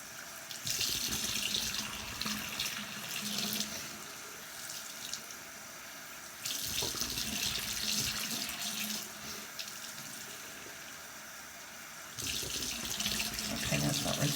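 Tap water pours steadily into a sink while hair dye is rinsed out, a close, continuous splashing rush that pauses briefly twice before resuming at the same strength.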